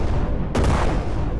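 Cannons fire in the Brick Rigs video game with a sudden loud blast about midway that quickly fades, set against a constant low rumbling background.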